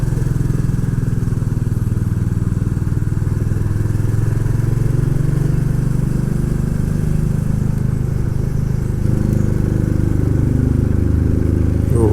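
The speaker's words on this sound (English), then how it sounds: "isn't that exhaust resonating off these walls on Overrun?" Steady Royal Enfield Classic 350 engine rumble on a North Wales mountain pass, the exhaust burble on overrun resonating off surrounding walls, loud and close, holding an even drone throughout with no talking.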